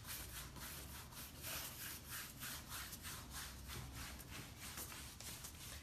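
Wax rubbed by hand across a board in a second coat, a steady rhythmic back-and-forth scrubbing with regular strokes, close and continuous with no talk.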